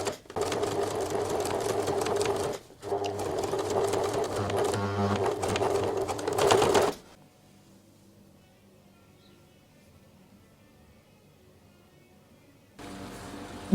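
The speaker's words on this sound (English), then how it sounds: "then you can stitch either straight on the pocket or in between the piping and the upper shell fabric." A sewing machine stitches pocket piping to the upper shell fabric in loud, rapid, even bursts. One brief pause breaks the run, then the motor stops and a long quiet follows before faint noise returns.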